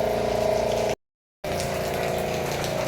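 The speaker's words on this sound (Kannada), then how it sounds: "ಸೊ ಆ ಬೋಟ್ಗಳೆಲ್ಲ ಇಲ್ಲಿಂದಾನೇ ಹೋಗೋದು." A motor boat runs on a river backwater with a steady, loud engine drone and rushing water, cut by a brief dropout to silence before the drone resumes.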